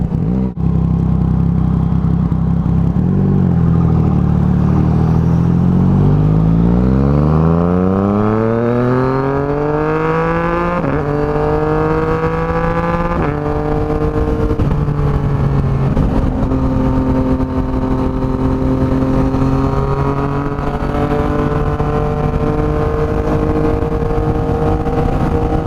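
A Yamaha MT-09 motorcycle with an aftermarket exhaust is ridden through the gears, loud and close, its engine note climbing steeply, dropping at each shift, then holding a steady drone, with no talk.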